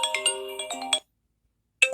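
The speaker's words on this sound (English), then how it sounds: "This is Reflection" The Reflection ringtone plays on an iPhone XR, a bright chiming melodic phrase of about a second, then a short silence before the next phrase begins, clear and close with no talk.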